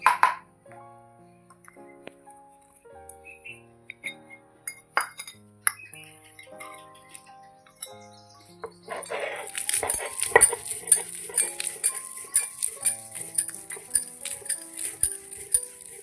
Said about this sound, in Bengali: দিয়ে এখন শিলনোড়াতে এটাকে বেটে নিতে হবে